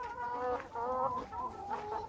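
Laying hens on ordinary layer feed cluck softly at close range, several short clucks in a loose, uneven run with no talking.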